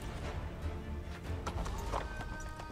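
A horse gallops in Assassin's Creed 3, steady hoofbeats pounding at a quick rhythm, fairly faint under game effects, with no voices.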